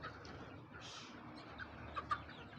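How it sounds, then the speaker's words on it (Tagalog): Native chickens cluck at feeding time on a backyard farm, a steady low chorus of birds with a couple of brief, sharper clucks standing out near the end. "tayo pa magpakain ng ating mga alagang manok"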